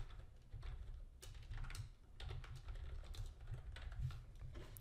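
Fingers tap steadily on a computer keyboard while a short greeting is typed, producing an irregular run of close, light clicks with brief pauses between bursts and no voices.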